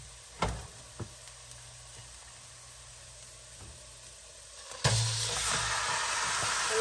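Marinated pork ribs drop into a pan with golden-brown onion and garlic, setting off a loud, steady sizzle after a few clinks and quieter cooking noise.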